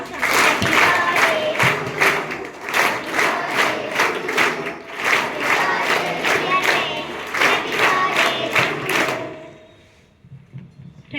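Schoolchildren at a school assembly clap together for a classmate's birthday in loud, rhythmic unison beats, a crowd pattering in time for several seconds before the clapping stops abruptly.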